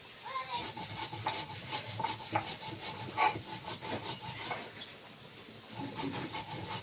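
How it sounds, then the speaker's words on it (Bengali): Cumin and chili being ground by hand on a grinding stone, with repeated rhythmic scraping and rubbing strokes of stone on stone, close and fairly steady, and a faint voice or two in the background. "এদিকে তরকারিটা ফুটিলেও আমি বেটে নিই জিরে মরিচটা"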